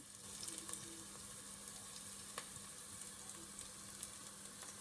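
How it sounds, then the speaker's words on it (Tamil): Onions sauté in a pan for a Tamil-style lamb curry, giving a soft, steady sizzle at low level with faint occasional clicks and stirring, and no voices. "நல்லா வெங்காயத்தை நல்லா வதங்க விட்டுருக்குறேன்"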